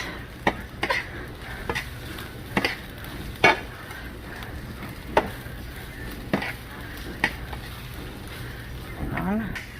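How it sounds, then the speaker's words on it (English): Hash browns coated with egg and cheese are stirred in a dish, with a series of distinct scraping knocks of the utensil spaced a second or so apart over a soft background. "Then you gotta stir it. Try to get all the hash browns covered with egg and cheese."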